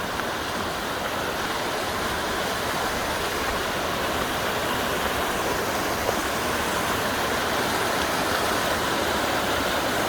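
Steady broadband roar of Fitzgerald Falls, a waterfall along the Appalachian Trail, heard close and continuous for the whole stretch with no voices over it.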